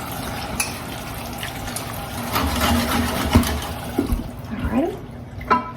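Running tap water rinsing cucumber slices for bread and butter pickles, a steady splashing stream with clatters and bumps from handling in a kitchen, and a brief spoken word.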